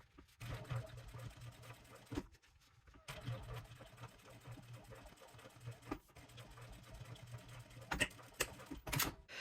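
A sewing machine stitches a zipper pouch seam in quiet bursts of rapid, even whirring, separated by brief pauses, with faint clicks near the end.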